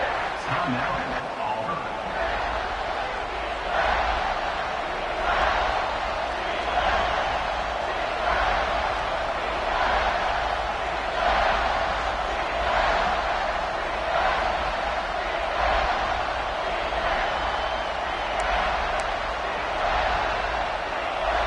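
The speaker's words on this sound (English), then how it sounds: "this crowd is at fever pitch" A football stadium crowd roars steadily during an Auburn versus Notre Dame game, a dense, sustained wall of noise with a play-by-play announcer talking over it throughout.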